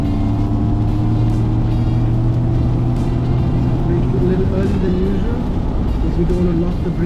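MG Cyberster electric roadster driving on a wet track, a steady road and tyre hiss with rising whine, continuous and close, with a voice talking over it.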